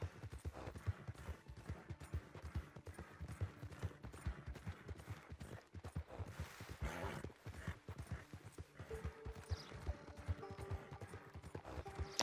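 Horse hooves clip-clop in a fast, steady rhythm in the video game Red Dead Redemption 2, fairly quiet and continuous, with faint background game sounds and a brief burst of noise midway.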